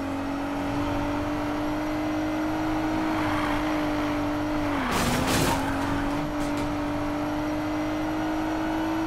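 Car engine drones steadily with a loud high whine in a Need for Speed Payback chase, dipping and surging midway as tires squeal briefly, the roar holding constant throughout.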